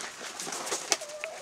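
Tumbler pigeons, young birds among them, coo softly from a loft, a few low calls rising over steady background noise with a brief sharper chirp, no one speaking.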